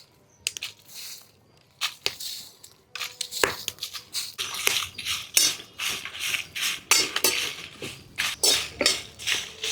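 Dry red chillies tossed in a heated pan without oil, heard as a run of dry scraping, rattling strokes and clinks of a utensil against metal, close up and growing busier, no voices.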